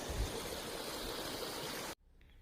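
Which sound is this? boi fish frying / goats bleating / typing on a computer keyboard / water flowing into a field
water flowing into a field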